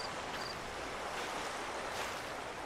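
Steady broadband wash of water waves in the video game Slender: The Arrival, a continuous soft surf hiss with no distinct breaks, even and moderately quiet throughout, no voices.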